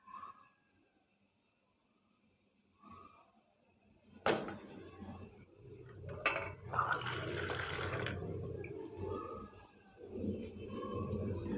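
Half a cup of water poured into a pan of cooking carrot halwa with sugar, a sudden splash followed by several seconds of steady pouring and sizzling bubbling, close and moderately loud, with no voices.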